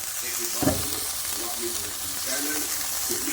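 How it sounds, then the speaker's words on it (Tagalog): Meat sizzles and fries in a pan with a steady crackling hiss, a brief clatter from stirring, and faint speech in the background. "nalutuin natin itong ating karne"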